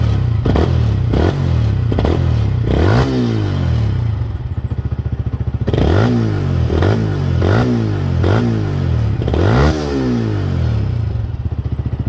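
A Yamaha YZF-R125 motorcycle engine, still warming up, revs repeatedly from a close idle, each sharp climb falling back to a steady rumble, loud and up close.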